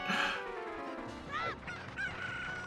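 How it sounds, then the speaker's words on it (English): Chickens in The Legend of Zelda: Ocarina of Time, playing in a randomizer race, let out loud crowing, clucking squawks: several rising and falling calls that overlap one another with no talk. "Both doing chickens!"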